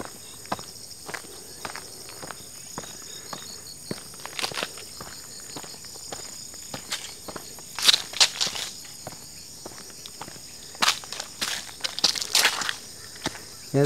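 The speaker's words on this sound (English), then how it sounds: "You can still hear some cicadas" High, buzzing cicada calls pulse through calm outdoor quiet on a hike in Cheonan, with scattered soft crunches and taps like footsteps nearby.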